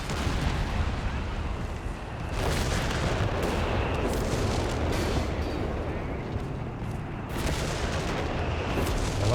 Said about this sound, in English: Allied artillery keeping those 88s on their toes.